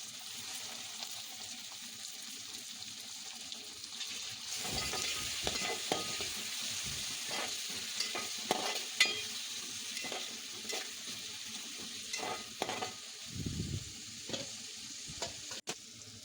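Onion, tomato, bay leaves and whole spices sizzling in oil in a pan for prawn biryani, a steady close frying hiss broken by repeated scraping and stirring clicks from a spoon.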